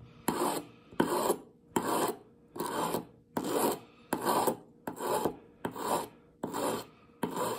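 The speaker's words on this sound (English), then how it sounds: "And you want to taper that flat out. You don't want to file a groove in there." A hand file works a flat onto a steel pick wire for lever locks, about ten even rasping strokes in a steady rhythm with short pauses between, close and clear.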